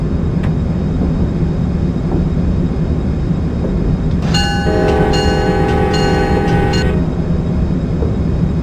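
An Acela Express train on the PRRV2 route in the OpenRails train simulator rumbles along steadily and loudly, with a tonal horn-like sound in the middle, no voices.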